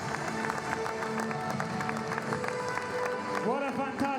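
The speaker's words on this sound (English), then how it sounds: "What a fantastic reception from our crowd here in Chamonix." At the UTMB ultra-trail race finish in Chamonix, a crowd claps and cheers steadily while an announcer talks over the noise, with rhythmic clapping beating through.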